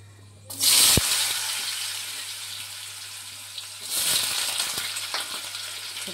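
Bay leaf and cloves dropped into hot oil for a tempering: a sharp burst of sizzling that settles into a steady fry, then swells again with another addition, close and moderately loud, with no voices.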